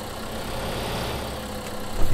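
A 6410 tractor engine idles steadily in Farming Simulator 2015, a low, even, medium-pitched rumble close up with a slight knock, swelling briefly near the end, and no talking.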